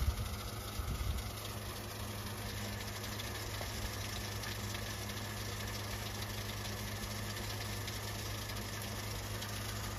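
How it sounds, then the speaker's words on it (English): A household air conditioner compressor runs during a heat wave, a low steady mechanical hum with a faint rattling vibration, continuous and unchanging, with no talk over it. "I'm gonna turn the compressor on. All right. So AC is quite loud today."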